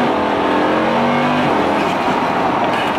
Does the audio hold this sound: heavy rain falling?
no